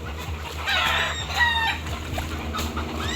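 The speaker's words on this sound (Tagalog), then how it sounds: "Nag-ingay na po yung mga manok at nadaanan po ng aming aso." Chickens near a rice paddy cluck excitedly and a rooster gives a short crowing call after a dog passes by, all heard fairly close with a low steady hum underneath.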